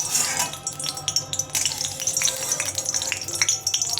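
Bitter gourd leaf fritters fry in hot oil in a kadai, a close, steady crackling sizzle with busy spitting pops throughout.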